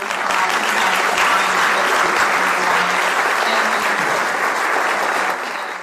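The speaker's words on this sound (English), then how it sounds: "A big round of applause for Doug." A crowd at a school district event in Cedar Rapids gives a big, loud round of applause for a speaker, dense steady clapping that holds strong and then tapers slightly near the end.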